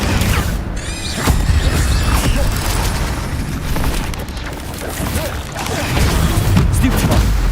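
Fiery spell blasts from Hogwarts Legacy combat crackle and boom repeatedly amid a thick, rumbling battle din of magical impacts, loud and sustained throughout.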